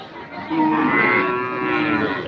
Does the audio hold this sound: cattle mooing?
yes